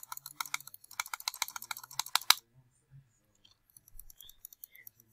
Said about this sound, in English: Clicking intensifies.